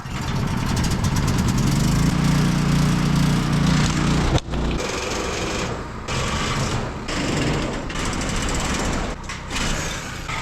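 A loud, buzzing Milwaukee Sawzall reciprocating saw cutting through a burned shop, its rapid chattering strokes running continuously with brief dips and restarts, close up.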